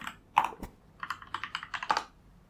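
Someone types a terminal command on a computer keyboard, producing a quick, uneven run of soft key clicks with a couple of louder taps, close and fairly quiet.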